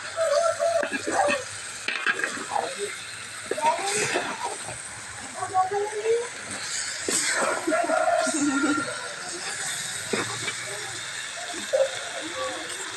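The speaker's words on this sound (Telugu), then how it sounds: "ఉల్లి ముక్కలు వేగిస్తాం కదండి ఇంకా పసుపు కూడా పసుపు కారం కూడా" Onion pieces fry in a pan with turmeric and chili powder, giving a steady sizzle and occasional stirring scrapes beneath a person talking throughout.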